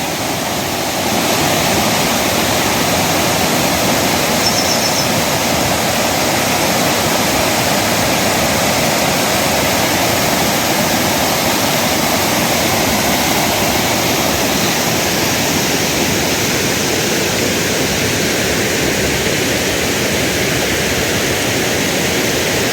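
Water spills over the weir of Komati lake in Siddipet, a loud, unbroken roar of cascading water heard up close and holding steady throughout.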